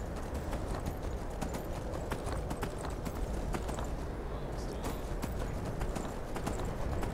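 Steady clip-clop of a horse's hooves at a trot on a road in Skyrim, rhythmic and continuous, fairly quiet with a soft background hiss.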